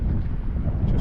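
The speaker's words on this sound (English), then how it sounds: "It's still windy today, it's about 50 km/h wind." Strong wind of about 50 km/h buffets the microphone on the deck of a cruise ship nearing port in Papua New Guinea during a tropical cyclone, a steady close roar with no voices.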